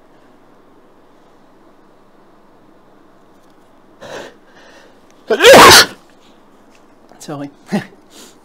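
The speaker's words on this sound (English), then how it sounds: "I tried to sneeze" An attempted sneeze bursts out once, loud and sharp, after a short hush, with a few brief spoken sounds and breaths following it.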